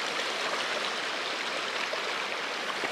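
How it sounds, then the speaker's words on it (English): River stream flowing through the Hoh rainforest, a steady, full rush of water heard alone and close, unbroken for the whole stretch with no voices. "I think we're coming upon a river right now"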